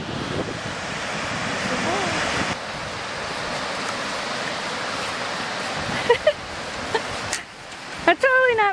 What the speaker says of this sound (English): See that waterfall?